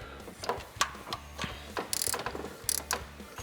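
Ratchet clicking as the injector hold-down bolts are tightened on a Duramax LB7 diesel engine, short bursts of rapid, close pawl clicks separated by brief pauses.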